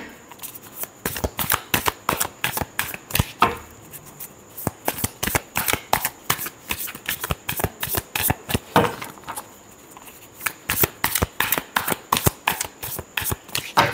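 Tarot cards riffled and shuffled by hand, a fast run of crisp flapping clicks in quick bursts with short pauses between them, close and fairly quiet with no talk.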